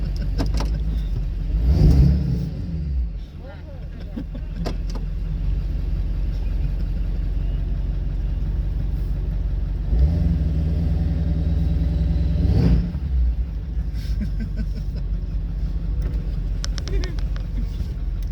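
A diesel dually pickup with exhaust stacks idles with a loud, low rumble and revs up in a few bursts, while people talk nearby over the engine.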